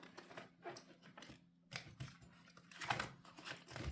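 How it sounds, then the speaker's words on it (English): Tarot cards shuffled messily by hand during a reading, giving faint, irregular papery riffles and flicks in quick clustered bursts with short pauses, close and quiet with no talking. "I am such a messy shuffler."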